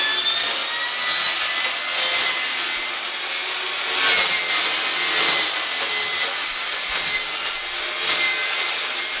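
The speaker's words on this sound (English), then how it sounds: "I've turned the blade around on the circular saw. You should be able to cut steel this thin using that." A circular saw with its blade mounted in reverse cuts through thin steel sheet in a blacksmith shop, giving a steady, loud, harsh grinding rasp with a few surging peaks and no talk.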